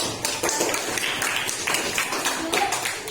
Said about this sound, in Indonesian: Beri tepuk tangan, walaupun salah tidak apa-apa.